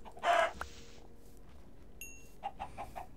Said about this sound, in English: Stupid chickens.